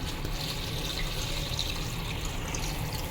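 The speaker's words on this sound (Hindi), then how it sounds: "देखिए पानी डाल रही हूँ मैं इसमें।" Steady water pouring into a pot of chicken yakhni pulao, a continuous splashing rush that stays even throughout.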